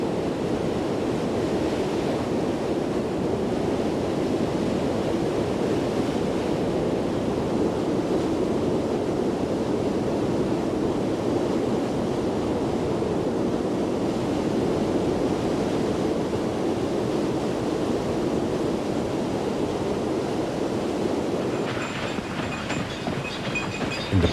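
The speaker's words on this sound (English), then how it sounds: "In the province of Nordfjord, it is possible to observe both the thundering power of a waterfall and its frozen origin." A thundering waterfall in Nordfjord, Norway, pours in a dense, continuous roar that holds steady and loud throughout, thinning slightly near the end, with no voices.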